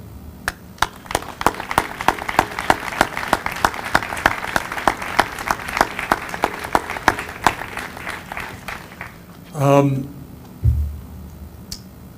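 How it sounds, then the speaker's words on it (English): Scattered, sparse clapping rises from a small outdoor crowd at a 9/11 memorial dedication, individual claps distinct and irregular before fading, then a brief voice speaks near the end. "give you all a round of applause for me and the FDNY"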